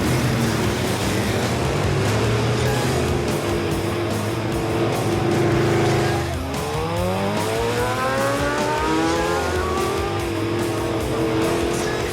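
A classic American V8 car engine rumbles and revs steadily nearby, its pitch climbing and shifting as it accelerates, with a continuous loud drone.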